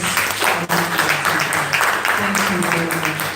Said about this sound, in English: I feel we have to give another round of applause.